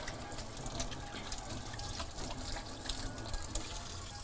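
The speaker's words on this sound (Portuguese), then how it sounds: "Eu vou passar uma água na mão para não sair sujando tudo" Water from a kitchen tap runs steadily as hands are rinsed under it at a sink, a continuous close splashing hiss lasting throughout with no talk.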